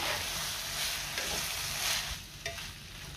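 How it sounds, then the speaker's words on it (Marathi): Sprouted moth beans (matki) are stirred and fried in a pan with a brief, close sizzle and a few soft scraping strokes. "मटकी घातल्यावर मी सगळं व्यवस्थित मिक्स करून घेतलंय आणि 2 मिनिटं परतून सुद्धा घेतलेली आहे मटकी"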